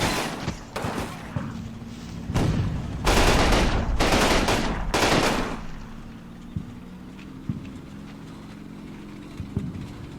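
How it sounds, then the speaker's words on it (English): Heavy cannon fire from an immobilized tank shelling a position in the WWII strategy game Combat Mission, heard as several loud, sharp broadband blasts in quick succession, followed by scattered fainter distant shots. "I'm using the immobilized tank to shell this"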